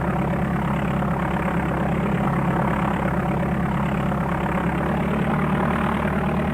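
Aircraft engine idling in the DOS game Flight Simulator 4, a loud, steady low drone with a throbbing propeller-like pulse that holds unchanged throughout, no talking.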